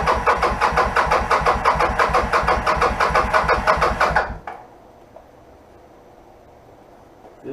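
A motorbike engine, choke applied and fuel on reserve, fires up and runs with a loud, rapid steady rumble for about four seconds, then cuts out abruptly and leaves near silence.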